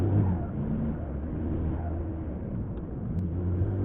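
Audi A3 TDI diesel engine with a converted single-mass flywheel accelerating, a steady low rumble and drone heard from inside the car, continuous throughout with no talk.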